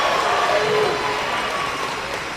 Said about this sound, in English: And the Valiant crowd loves it